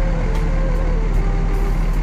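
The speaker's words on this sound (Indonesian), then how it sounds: "NPM pertama yang memasuki Terminal Kampung Rambutan." An NPM V53 intercity bus rolls into Kampung Rambutan bus terminal, its steady engine drone loud and close, with a faint tonal whine and light rhythmic clicks running through it and no talk.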